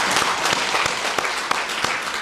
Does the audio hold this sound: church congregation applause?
yes